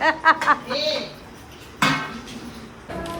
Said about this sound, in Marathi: मी भांडी घासायला घेतले पटापट